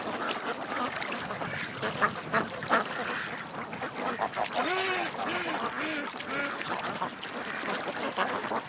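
Ducks quack and honk outdoors in the morning, a scattered series of nasal calls rising over a soft, noisy background, with one clearer run of quacks in the middle.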